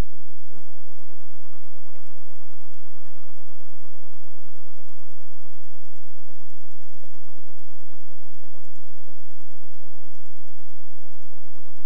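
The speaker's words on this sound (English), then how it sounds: "I'll sew now." A PFAFF creative 1475 computerized sewing machine stitching a single pattern, giving a steady mechanical whir with a fast, even needle rhythm that runs continuously and close by, with no talking.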